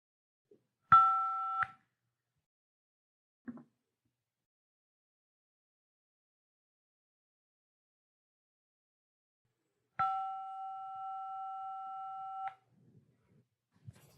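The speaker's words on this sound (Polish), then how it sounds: "Kiedy wybierasz numer na swoim telefonie, generuje on dźwięk." A phone keypad sounds two clean dual-tone beeps in a quiet room, first a short press and then, after a long pause, one held for a couple of seconds.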